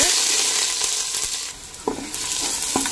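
Hot coconut oil fries in a pan, a continuous bright sizzle with a few short clinks and scrapes of a spoon, close and fairly loud with no talking.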